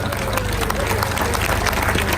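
A crowd at an evening event for Nottingham Forest's Miracle Men gives a round of applause, dense continuous clapping mixed with murmuring voices and cheers, loud and sustained throughout.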